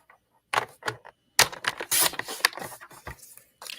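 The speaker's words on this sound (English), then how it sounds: "I'm going to bring in my trimmer, and we're going to cut this at 1-inch strips" A paper trimmer slices designer paper into 1-inch strips, producing several short, close sliding cuts and clicks in quick bursts with brief pauses between them.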